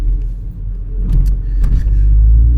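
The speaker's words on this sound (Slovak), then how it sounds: "No, takže auto už pípa a jedeme." A car engine rumbles steadily, low and loud, as the vehicle pulls away, with a few faint clicks and a light beep over the continuous hum.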